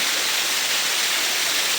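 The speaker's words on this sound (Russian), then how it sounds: "дошли мы до водопада. Водопад Нохчи Кело" The Nokhchi Kelo waterfall in the mountains of Chechnya roars as a steady, loud, close rush of falling water, with no voices over it.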